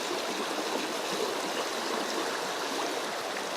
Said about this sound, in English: The water's moving nice and fast